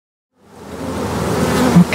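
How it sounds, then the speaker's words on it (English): A swarm of honey bees hums in a bee yard beside their colonies, the drone fading in from silence and holding steady and fairly loud for the rest of the moment, with no talk. "It's a good yard of bees."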